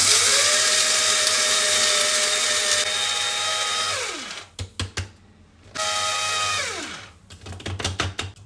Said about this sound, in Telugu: మూత పెట్టేసి మిక్సీ ఆన్ చేయాలి